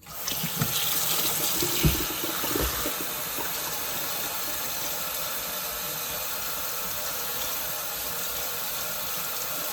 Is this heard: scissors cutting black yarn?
no